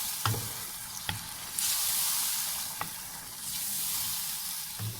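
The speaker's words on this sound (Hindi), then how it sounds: "अब हम इसको मसाले के साथ अच्छे से हम भूनेंगे।" Peas fry with spices in a pan for matar pulao, a loud continuous sizzle broken by a few sharp clinks of a spoon stirring against the pan, no voices.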